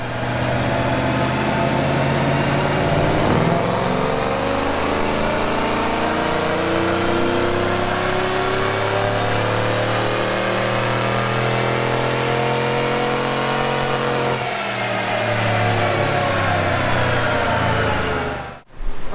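Chevrolet Silverado truck engine with a Texas Speed Stage 2 cam, ported heads and long-tube headers, burning 93 octane, roars through a loud, rising dyno pull that climbs steadily before dropping off and cutting out at the end.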